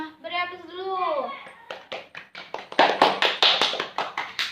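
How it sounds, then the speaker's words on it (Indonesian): Elementary schoolchildren in a civics class burst into a quick round of sharp, uneven clapping right after someone speaks briefly, the applause close and lively. "Beri aplaus dulu."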